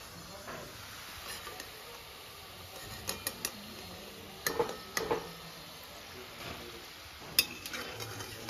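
Gathiya snacks fry in a pan with a faint hiss, broken by light clinks and scrapes of a utensil against the pan.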